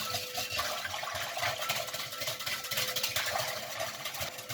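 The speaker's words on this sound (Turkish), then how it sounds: "Şimdi mayayı aktifleştirmek için çırpıcı yardımıyla da çırpıyoruz iyice." A whisk beats yeast into water in a bowl with fast, steady rhythmic sloshing and clinking, continuous and fairly close throughout.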